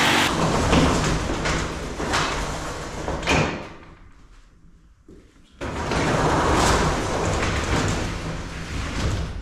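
A roller door on a new workshop rattles as it is raised into place, a loud sustained metallic rumble that drops away briefly and then returns, heard alone with no talking.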